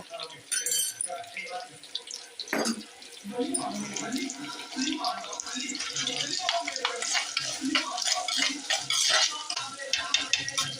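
Onions sauté in a pan for a country chicken curry, with a busy sizzle and frequent stirring scrapes close up, some watery splashing mixed in, continuing steadily throughout.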